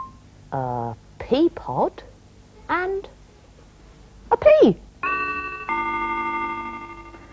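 A chime rings out as a sustained, bell-like tone near the end of a children's rhyme show, following brief, shifting child-like voices and tones.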